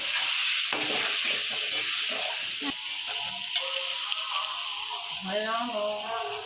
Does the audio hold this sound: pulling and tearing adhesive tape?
no